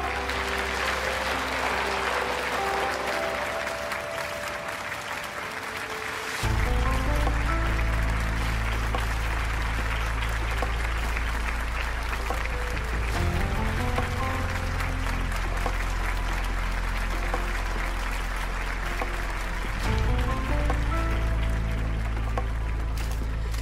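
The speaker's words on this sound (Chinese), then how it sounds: "下面让我们用热烈的掌声欢迎真正的英雄" Warm applause from an audience welcoming a hero carries on continuously for over twenty seconds, a broad steady clatter of hands, while music with a heavy low beat plays along loudly underneath.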